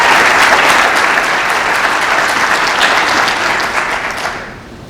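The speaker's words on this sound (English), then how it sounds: "Give them a round of applause." A loud, dense round of audience applause at a school athletics signing day, steady clapping that holds for several seconds before tapering off at the end.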